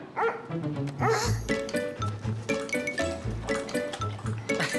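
Dog barking at a fire station in a French cartoon, a series of close, sharp barks and yips in quick irregular bursts, with no talk.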